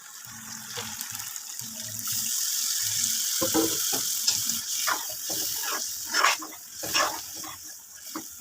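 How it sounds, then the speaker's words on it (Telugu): Water pours steadily into a pot of half-cooked chicken curry for several seconds, splashing nearby, after a dog barks a few times at the start. "నేను కొద్దిగా వాటర్ పోస్తాను"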